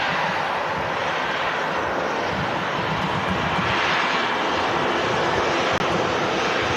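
Ryanair Boeing 737 airliner at Manchester Airport on a choppy, windy day, its engines giving a steady, loud broadband roar that holds constant throughout with a slight swell midway.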